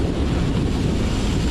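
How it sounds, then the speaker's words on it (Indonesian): Steady wind buffets an outdoor microphone near a cornfield by the coast, a continuous low rumbling roar with no breaks and no voices. "Angin."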